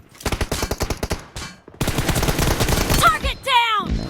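Automatic gunfire in a first-person shooter video game, a loud close burst of rapid rhythmic shots, a brief pause, then a longer sustained volley followed by whooshing and tonal effect sounds.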